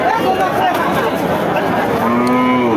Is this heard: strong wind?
no